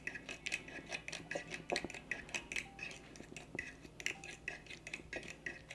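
Utensils toss and mix a Caesar salad in a bowl, making close, busy clinks, taps and scrapes in an uneven rhythm, with no one speaking.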